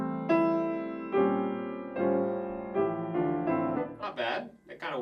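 A piano sounds a series of sustained minor sixth chords, each struck cleanly and left to ring before the next, with a brief bit of speech near the end.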